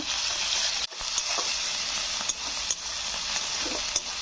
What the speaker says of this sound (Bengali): এটাও খুব সুন্দর করে একটু ভেজে নেব